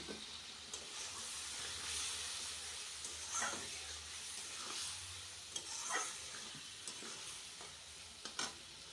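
Spice paste sizzles in a pan as a spoon stirs and scrapes it, a continuous hissing fry broken by repeated clinks and knocks of the utensil against the metal.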